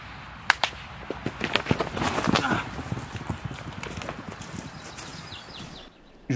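Horses approach the camera, their hooves clip-clopping and thudding unevenly and growing louder, with mixed outdoor movement noise and a few sharp knocks, before a sudden drop to near silence at the end.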